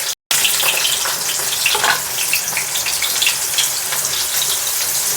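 Tomatoes dropped into hot oil with panch phoron (five-spice) in a kadai, for a village-style vegetable dish, set off a loud, steady sizzle that runs on without a break after a brief silent gap at the very start.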